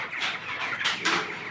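Eighteen-day-old chickens kept indoors in a shed cluck and chirp together in a busy, continuous flock chatter close by.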